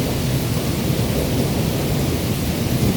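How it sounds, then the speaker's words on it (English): A powerful, sustained roar of storm wind on a homestead, loud and even like a distant jet, filling the whole stretch without speech. "It's like a jet overhead, but it's not. That is the wind."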